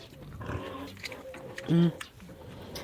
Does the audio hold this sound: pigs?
yes